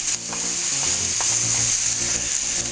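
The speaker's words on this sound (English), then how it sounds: "Touch more oil. Let's get our shrimp on in there." Shrimp stir-frying in oil for shrimp fried rice, a loud steady hiss and sizzle with a few stirring scrapes, close and continuous, no one talking.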